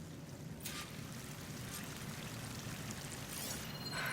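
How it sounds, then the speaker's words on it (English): Waterfall in a video game pouring as a steady broadband wash, with brief brighter splashy surges near the start and end, continuous and fairly close with no talk. "That waterfall must be coming from somewhere."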